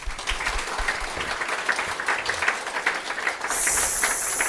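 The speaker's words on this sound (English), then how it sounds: "So let's give our big round of applause" Applause fills a conference hall after a Flutter developer talk and Q&A session, a steady dense patter of many hands held at even loudness, with a bright hiss joining near the end.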